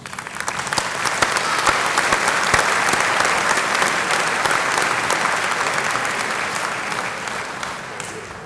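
Sustained applause from a large audience at a summer university graduation ceremony, a dense steady clatter of clapping that swells and holds for several seconds before slightly easing.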